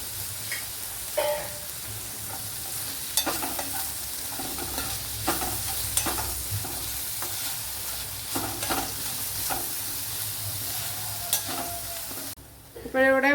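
Curry leaves and shallots sizzling in oil in a pan for green gram curry, a steady close frying hiss punctuated by repeated spoon scrapes and taps, with no talking.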